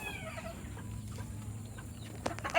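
A young pullet hen clucks softly and continuously, close up amid a busy flock of chickens, with some brief scuffling noises near the end.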